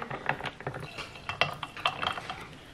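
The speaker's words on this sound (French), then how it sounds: "Là, je vais brasser." A spoon clinks and scrapes around the inside of a glass as a drink with oat milk is stirred, making a quick run of irregular, close-up metallic taps and swirls with no voices.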